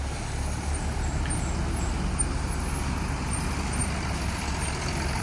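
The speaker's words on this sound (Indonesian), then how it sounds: "Ya ini ada bus Andoy ya." An intercity bus sits at a stop in Pekanbaru, Indonesia, with a steady, loud low engine rumble and surrounding road traffic noise running unbroken throughout.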